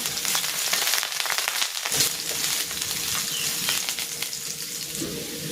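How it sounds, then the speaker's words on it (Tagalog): Garlic sautés in hot cooking oil in a pan, a steady bright sizzle and crackle that carries on without pause, with a few soft clatters of stirring and no talking. "Maglalagay na ako ng cooking oil. Magigisa na ako ng bawang."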